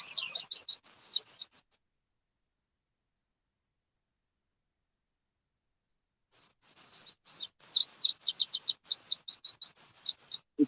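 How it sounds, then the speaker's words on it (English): Morning birdsong near a river: rapid bursts of high chirps and trills, clear and fairly close, with a long quiet gap before the chirping returns more densely. "The birds are sure waking up down there where you're at."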